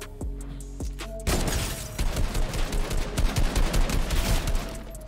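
Rapid bursts of video game gunfire in a squad battle royale match, a few isolated shots at first, then a dense, loud, sustained rattle of fire close up.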